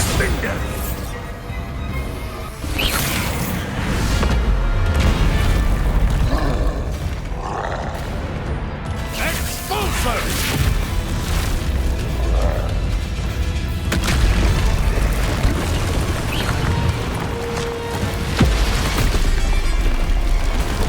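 Bombarda spell explosion in the video game Hogwarts Legacy, a loud booming blast with crashing debris amid a dense, continuous game soundscape, with a voice calling out spells over it.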